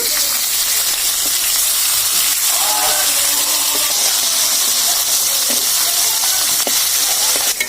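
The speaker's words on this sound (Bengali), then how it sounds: "আর এখন মাছগুলো উল্টিয়ে নিচ্ছি" Continuous loud sizzling and crackling of hilsa fish frying in oil, steady throughout with occasional faint scrapes and clicks.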